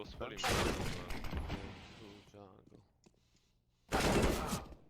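Gunfire bursts during a Counter-Strike 2 tournament match, a loud volley at the start, then a quieter gap and another sharp loud burst near the end, with a commentator talking over it.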